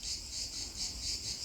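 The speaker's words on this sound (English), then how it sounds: "I hear a cicada." Outdoors in nature, a cicada buzzes with a thin, high, steady drone that swells and fades in a slow pulse, faint and with no other sounds around it.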